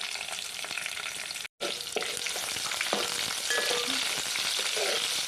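Onions frying in hot oil with dried red chillies and curry leaves for rasam, a loud, dense, continuous sizzle close up with faint stirring taps and a brief cut near the start.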